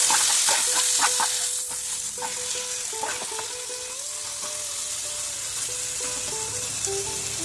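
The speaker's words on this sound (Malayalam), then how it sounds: "ഇത് വറുത്ത് ചേർക്കുമ്പോൾ ഒരു പ്രത്യേക സ്വാദുണ്ടാവും" Chicken pieces frying in a pan for a chicken and vegetable pulao, giving a loud, continuous close sizzle that eases slightly after the first seconds, with a soft melody running underneath and no talking.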